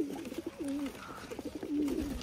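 Chot pigeons in a loft cooing in soft, rolling throaty phrases, several overlapping coos close by over a quiet background; no one speaks.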